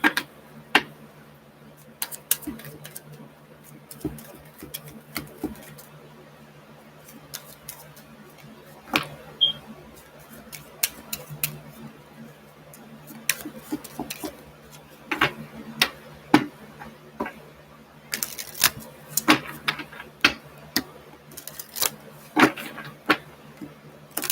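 Tarot cards being shuffled by hand, giving irregular soft flicks and riffling clicks in short bursts against a quiet room, close and moderately loud.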